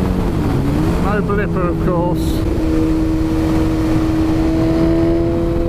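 BMW S1000RR motorcycle with an Akrapovic exhaust running close by, a steady engine drone with a rising pitch that holds under continuous talk from a man.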